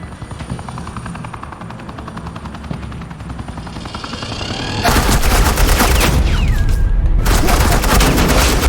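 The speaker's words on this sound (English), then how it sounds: "This is Agent Quinn, suppressing fire." Suppressing gunfire in the video game Batman: The Telltale Series breaks out midway as a dense, loud roar of sustained shooting, following a quieter stretch of steady helicopter-like thrumming.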